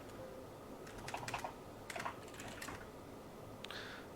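Faint keystrokes on a computer keyboard come in a few short bursts of quick taps, spaced apart over a quiet room background with no talking.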